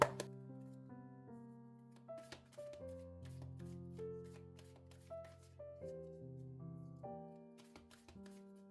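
Oracle cards for a tarot reading are shuffled in soft, scattered riffles and taps over quiet, sustained background music.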